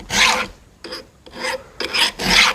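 A hand file sharpening the top plate of a chainsaw chain: four or five close, loud, rasping strokes, each about half a second, with short pauses between them.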